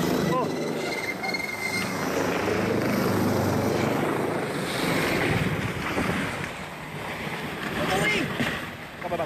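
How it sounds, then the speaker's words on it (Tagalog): A police helicopter flies low over a dusty roadside in Laguna shortly before crashing, its rotor chop and engine roar loud and close, mixed with wind buffeting and voices shouting in the background. "Sa kabilang panig ng kalsada, nakunan din ang paglipad ng chopper."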